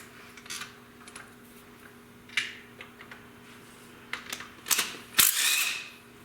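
Ratchet clicking on a socket undoing loose nuts from the studs of a 110 engine being stripped down, with faint intermittent ratcheting that builds to louder metallic clatter and a sharp clank near the end, no talk.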